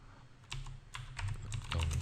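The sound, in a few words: computer keyboard keys being pressed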